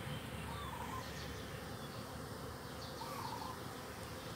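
Bees hover among blossoming coffee plants in a coffee garden, giving a soft, continuous buzzing drone that carries on unbroken with no voices.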